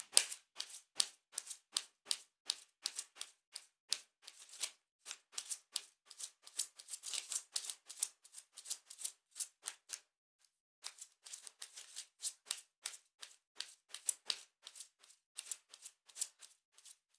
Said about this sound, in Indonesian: Sebentar kartunya dikocok dulu sebelum kita mulai.